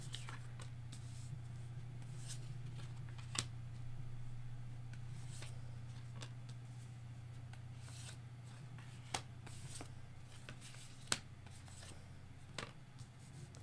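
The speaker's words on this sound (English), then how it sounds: "You watched me shuffle them" Soft papery riffling of tarot cards being shuffled, with occasional sharp snaps and taps over a steady low hum.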